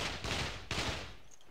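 Two bursts of battlefield gunfire from the World War II shooter Brothers in Arms: Road to Hill 30, loud and close, each a sustained volley that tails off, with quieter ambience after.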